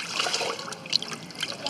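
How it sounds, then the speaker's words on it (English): Pants being washed by hand in water, with irregular sloshing, trickling and small splashes close by at moderate loudness for under two seconds. "You've got to wash your pants."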